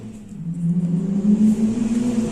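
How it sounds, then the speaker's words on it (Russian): A car speeds past outside with a steady engine whir and rumble that swells to a peak midway and then eases off, heard from indoors at moderate loudness. "Машина проехала очень быстро, кто-то гоняет."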